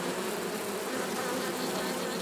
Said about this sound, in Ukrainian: ведро повне, повнісіньке бджоли. Бджола вентилює